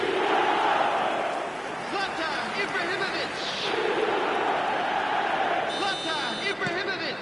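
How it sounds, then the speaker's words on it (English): A stadium crowd, loud and continuous, roars and chants to demand a finish. The broad, steady wall of cheering swells and eases slightly over several seconds, with a commentator talking over it. "Now the crowd are demanding that they just finish this off"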